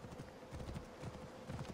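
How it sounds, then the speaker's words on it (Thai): Hooves clip-clop in a steady galloping rhythm from a horse ridden in the Assassin's Creed Origins video game, faint and continuous throughout. "น้องม้ามาสวยงามจริงๆม้าผมอยู่ไหนแล้ว"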